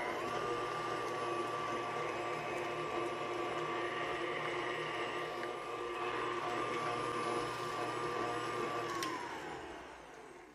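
An electric mixer churning cookie dough with molasses in a steady, loud, continuous motor whine that holds level, then slows and fades as it winds down near the end.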